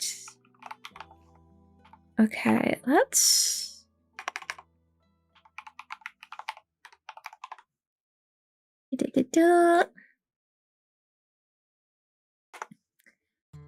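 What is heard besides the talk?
typing on a computer keyboard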